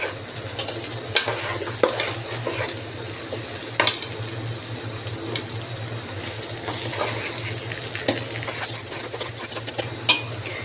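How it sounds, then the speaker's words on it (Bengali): Rice frying and being stirred in a pot for biriyani, with salt added, giving a steady close sizzle under repeated scraping and clinking of a spoon against the pot. "চালটা সম্পূর্ণভাবে ভাজা হয়ে গেল।"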